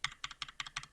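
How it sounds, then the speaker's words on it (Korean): Computer keyboard typing, quick bursts of crisp key clicks in a steady rapid rhythm, close and clear with nothing else heard. "어차피 키보드 소리 들리시죠?"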